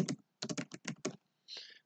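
Bursts of keystrokes on a computer keyboard while writing HTML markup in a code editor, several quick clusters of clicky taps close to the mic, followed by a brief softer rattle at the end, no talking.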